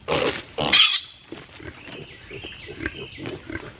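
Pigs and piglets grunt and snuffle close by at a fence, a burst of louder squeals near the start giving way to a steady run of low, irregular grunts.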